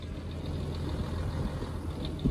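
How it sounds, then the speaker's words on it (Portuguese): A parked truck's engine idles in a low, steady rumble on a windy mountain road on the Cuesta de Lipán toward Salinas Grandes, fairly faint and constant with no voices. "Tem um caminhão parado aqui,"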